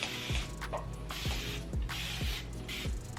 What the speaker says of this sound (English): I'm just spraying it with a little bit of water